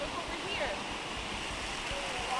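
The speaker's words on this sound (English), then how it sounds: "So this is the point where the water comes into the mill here." Water rushing steadily from a dam into the intake channel of a historic sawmill at Mill Creek, Mackinaw, a continuous broadband wash with no break throughout.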